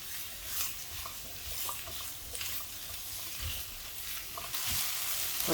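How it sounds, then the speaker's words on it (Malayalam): Potatoes sauté in hot oil in a pan with a steady soft sizzle, broken by occasional stirring scrapes, and the frying grows louder toward the end. "പൊട്ടറ്റോ ഈ എണ്ണയിൽ നന്നായിട്ട് വഴറ്റണം"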